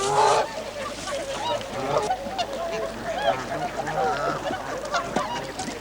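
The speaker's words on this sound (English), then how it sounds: "Birds always love the island because they're safe there." Geese, ducks and other waterfowl gather on a lake island, honking and calling repeatedly at close to middle distance in a busy, continuous chorus, with a voice talking over them.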